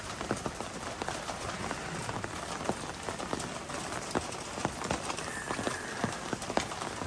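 Steady rain at night falls outdoors by a house, a constant soft hiss with scattered close drips and taps, faint and without talk.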